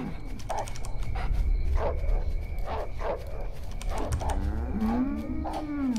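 Cows in the video game The Cows Are Watching moo loudly over a low rumbling backdrop, with several short calls and then a long, drawn-out moo near the end. No one speaks.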